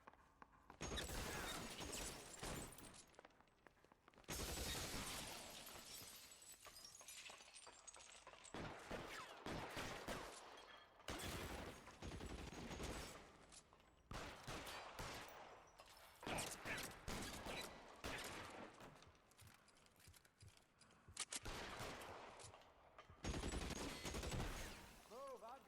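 Shotgun and other gunfire in the L.A. Noire video game, loud, dense shot bursts packed together in repeated clusters, with brief quieter gaps between them.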